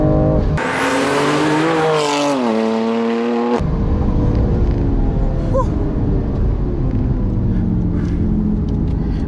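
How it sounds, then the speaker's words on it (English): Tuned 700 WHP BMW M2 Competition with Pure Turbos Stage 2+ upgrades and a DCT gearbox, driven hard on a canyon road: a loud engine climbs through rising revs, shifts sharply, then drops into quick downshifts as it settles to a lower drone. "Man, this car can turn a canyon road into an autobahn. Love the downshifts."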